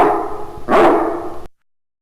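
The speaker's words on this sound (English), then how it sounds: "A dog." A dog gives a single loud, close bark midway through, standing alone against a quiet background before silence.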